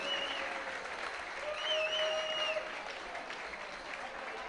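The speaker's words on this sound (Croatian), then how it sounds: "I jedan veliki aplauz." Audience applause at a sports games closing ceremony, a steady dense wash of clapping from a large crowd with faint whistles and voices mixed in.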